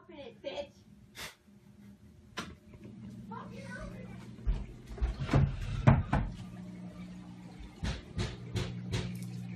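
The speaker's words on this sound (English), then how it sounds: "Can you stop banging on the door?" Someone bangs repeatedly on a door: sharp, irregular knocks and thumps, some in quick bursts, heard close up amid muffled voices and shouting from inside.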